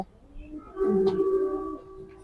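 Racing pigeons coo in a single drawn-out, throaty call that swells and holds for about a second, fairly close and clear over a quiet background, with no talking.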